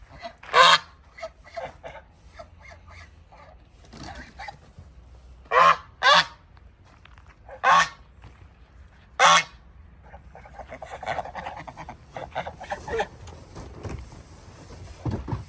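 Farm ducks give several loud, honking quacks in short bursts, spaced a few seconds apart, close by with quieter rustling and background noise between calls.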